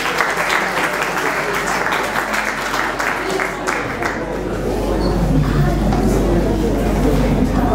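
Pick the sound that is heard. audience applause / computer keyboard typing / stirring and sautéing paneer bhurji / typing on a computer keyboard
audience applause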